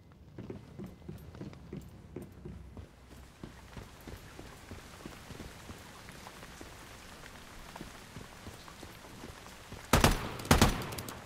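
AK rifle fire from the video game Once Human comes as scattered sharp shots at first, then a dense crackling patter, ending in two loud close bursts near the end.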